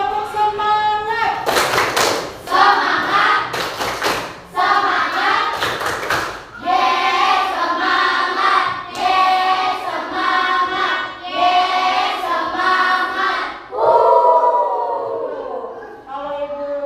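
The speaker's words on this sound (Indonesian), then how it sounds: "Kita mulai pagi ini dengan tepuk semangat." A school class does a rhythmic spirit clap, tepuk semangat, opening the morning with sharp group claps in patterned bursts, then loud children's voices chanting in rhythm over the clapping.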